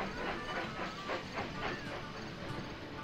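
Steam train running in the Railroad Tycoon 3 video game, a rhythmic chuffing and hissing with repeated regular puffs, steady and moderately loud.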